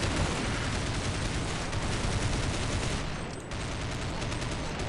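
Automatic gunfire in the video game Counter-Strike Nexon: Zombies, a dense loud continuous burst of rapid shots that briefly dips near the end before resuming, with no talking.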